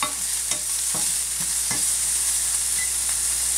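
Food is stirred around in hot oil in a pan, a steady loud sizzle running throughout with several distinct scraping strokes of the utensil near the start, and no voices.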